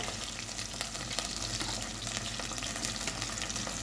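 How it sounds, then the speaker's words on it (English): Onions frying in a pan while preparing Jamaican escovitch fish, a steady dense sizzle with watery crackle running close and continuous, no talking. "I am adding my onions."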